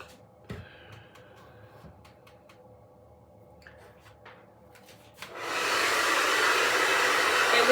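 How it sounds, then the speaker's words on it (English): A hair blow dryer kicks on partway through, a loud steady whoosh after a few quiet handling taps and rustles. "we just gonna hit it with the blow dryer again"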